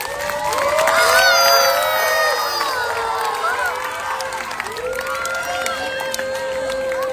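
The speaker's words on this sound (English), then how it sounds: "Can I have a big round of applause for the carnival, guys?" Audience at the ARA Carnival 3.0 2024 closing ceremony cheers and shouts in a dense, sustained crowd roar, loudest early on and then holding steady, with excited voices rising above the din.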